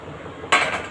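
A single sharp clatter of cut beetroot pieces dropping into a plastic vegetable chopper, brief and close after a quiet moment of low background noise.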